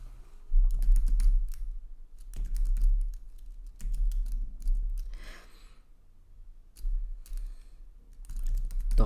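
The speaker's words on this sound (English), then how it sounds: "I open my terminal here and I'm going to start to type these commands that we have here" Commands typed on a computer keyboard at a terminal, a steady run of close, crisp key clicks in irregular bursts with brief pauses, no talking.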